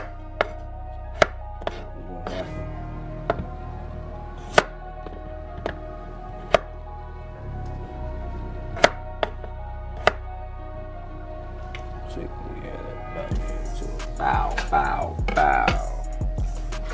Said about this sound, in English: gonna just quarter these for real. Make sure you cut that.